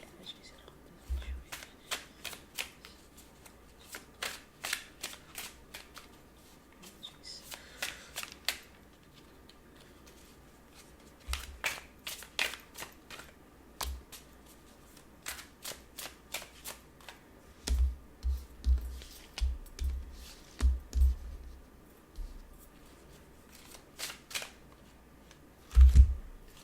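A deck of tarot cards is shuffled in bursts of soft riffling clicks and flutters, each run lasting a second or two and separated by pauses, up close and fairly quiet, growing busier and denser toward the end.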